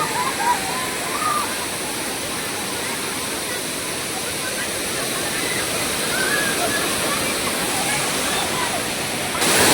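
Savdav waterfall in Konkan roaring steadily and close, a dense, unbroken rush of falling water that stays loud throughout with no pauses.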